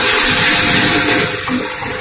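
A small amount of water pours into fish curry masala in a pan, a loud, steady gushing wash lasting about two seconds with no talking.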